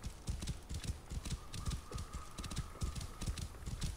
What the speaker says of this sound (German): Ne, ich muss ja außen rum reiten